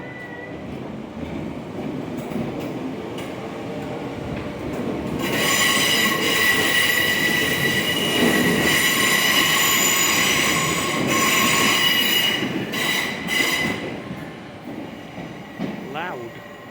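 A Class 507 passenger train rolls into a station platform with a steady rumble and a high metallic wheel squeal that swells midway, then eases as it slows.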